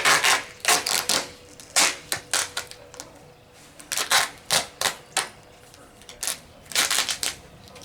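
Tape being torn and wrapped around uprights for a dog jump, close, repeated rasping strips in quick bursts with short pauses between them.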